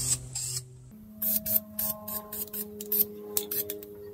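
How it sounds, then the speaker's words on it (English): Short hissing bursts of an aerosol primer spray can puff irregularly onto a wheel rim, close by and fairly quiet, with a faint tonal hum underneath. "We're going to spray it with this primer here."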